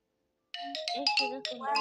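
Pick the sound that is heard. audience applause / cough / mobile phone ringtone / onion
mobile phone ringtone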